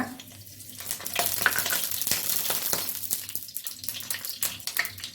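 Two cardamom pods frying in a spoonful of oil in a pan, a close steady sizzle with small crackles and bursts of stirring, no voices.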